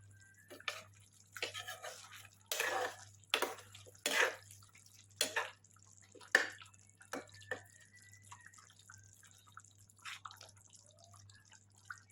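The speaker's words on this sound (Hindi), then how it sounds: "ये राइस हमारा बॉईल हो चुका है, उसको हम छान लेते हैं, सब पानी निकाल देते हैं उसका।" Water drains from boiled rice for chicken biryani, with irregular splashes, trickles and drips coming in uneven bursts, fairly quiet and close by.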